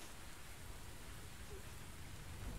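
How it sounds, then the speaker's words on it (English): Steady rainfall in the video game The Invisible Hours, a continuous even hiss of rain on surfaces, close and constant, with no talk. "Could I persuade you to come out of the rain, Flora"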